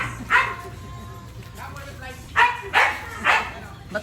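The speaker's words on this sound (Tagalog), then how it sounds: "Natatakot ako sa asong malaki." A dog barks several times in short separate bursts, fairly close, with people talking in Filipino throughout at a birthday gathering.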